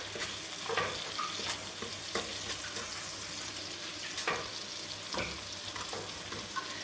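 Butter, sugar and balsamic vinegar sizzle with onions in a pan over low heat for a tarte tatin. A steady close frying hiss runs throughout, broken by stirring scrapes.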